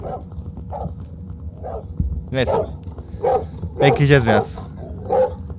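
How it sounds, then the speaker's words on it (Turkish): Dog in the HeadHorse Legacy Backrooms mod barks in short, repeated bursts at mid distance, with someone talking over and between the barks. "Böyle 10 saat havlayacak ondan sonra gidecek."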